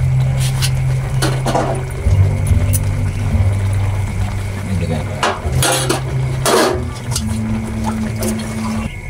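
A metal lid clanks onto a cooking pot of milkfish on the stove, a few sharp clattering hits over a steady background hum, with talking heard alongside.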